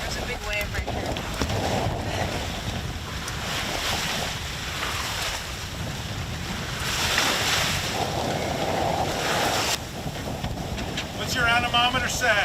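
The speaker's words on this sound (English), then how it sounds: "There's a big wave right here." Broadband surf and wind roar aboard a sailboat at sea with wind around 17 knots, a big wave surging and washing past in swells, with voices talking over the steady rush.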